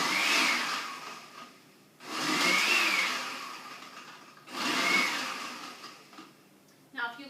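A blender pulses a fruit smoothie in three loud, close whirring bursts of about two seconds each, every burst starting abruptly and fading slightly before the next, followed by a brief clatter at the end.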